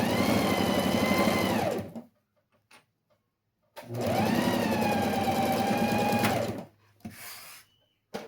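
A sewing machine stitches a lining onto pencil case fabric in two steady motor runs, about two and three seconds long, separated by a short stop, with a brief whir at the end.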